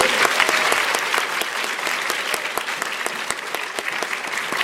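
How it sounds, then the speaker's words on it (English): A large audience of about 250 people at a Women in Science and Engineering keynote applauds loudly and continuously, with sharp individual claps standing out from the dense wash. "But can we give a big round of applause for Ellie?"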